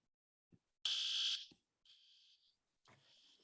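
Fire alarm in a building sounding in short bursts, a loud piercing tone followed by two fainter repeats, with brief soft knocks between.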